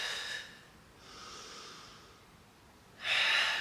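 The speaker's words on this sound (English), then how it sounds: "Exhale for 2." Breathing during a full-body floor workout, with two soft, close exhales separated by a quieter inhale, airy and rhythmic.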